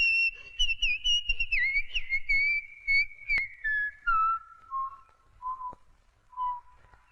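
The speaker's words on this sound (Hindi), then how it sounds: "जब घर में मालिक या मालकिन हो तो नौकर को सीटी नहीं बजानी चाहिए?" A man whistles a clear, close melody in a scene from a Bollywood romantic film, the tune sliding downward through a series of short and held notes with brief pauses between.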